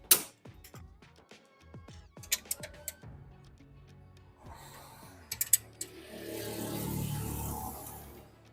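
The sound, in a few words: ratchet with extensions loosening a Honda alternator bolt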